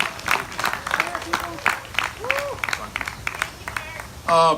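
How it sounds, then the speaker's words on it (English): A rally crowd at a Second Amendment event in Sunrise, Florida, applauds and cheers for Mark Robinson from North Carolina, with scattered claps and shouts under amplified voices and a brief loud burst at the end. "Can we hear a big shout and round of applause for Mark Robinson from North Carolina?"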